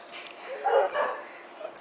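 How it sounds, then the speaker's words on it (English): A few distant neighborhood dogs barking outdoors, short faint barks and yips in quick succession, somewhat muffled and far off. "So the neighbor dogs are up."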